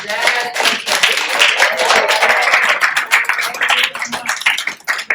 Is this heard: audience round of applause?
yes